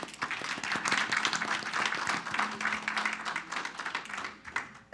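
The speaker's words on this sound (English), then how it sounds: "So let's give her a round of applause and welcome her here." An audience claps to welcome a presenter at a community funding presentation, a steady moderate round of applause that carries on throughout.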